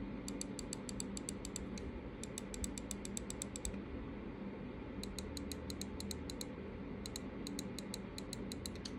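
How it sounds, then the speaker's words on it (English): Crisp, rapid mouse button clicks in quick bursts of a dozen or so, pausing between groups, over a low steady background hum. "that front button sounds nice and crisp"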